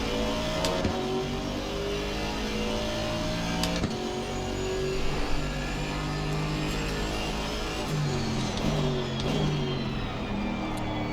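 Several GT4 race cars, a Ginetta and a McLaren among them, roar together in close racing at Zandvoort in Assetto Corsa Competizione, with steady loud engine drone and shifting pitch as revs rise and fall.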